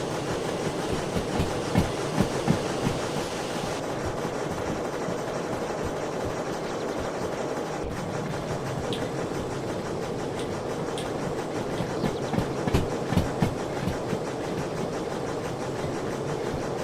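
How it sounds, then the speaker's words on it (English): A steam locomotive with its fully loaded tender, 555 tons, rolls along the rails in the Derail Valley VR game, a steady rumbling drone with faint wheel clicks throughout, continuous and fairly close. "Train with the tender fully loaded weighs in at 555 tons."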